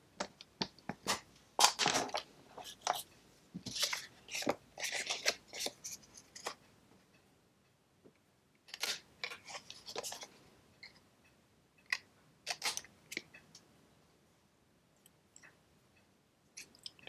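Scissors cutting out shapes from upcycled material, crisp close snips and crunchy cuts in irregular clusters separated by quiet pauses, with no voices.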